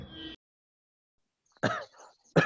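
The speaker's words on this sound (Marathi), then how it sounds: "जरा खोकला आला" Two sharp, close coughs after a short silence, the first strong and the second cut off at the end, with a brief trailing breath.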